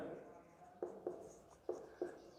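Marker or chalk writing on a board during a physics lesson on capacitance: several short scratchy strokes in an uneven rhythm, faint and close, under a low voice that is talking.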